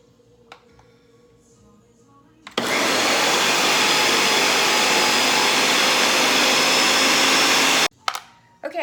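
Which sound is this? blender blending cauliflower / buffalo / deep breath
blender blending cauliflower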